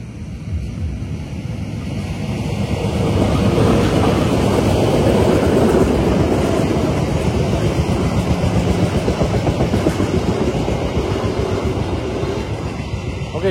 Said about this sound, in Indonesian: Ini ada kereta api Probowangi melintas nih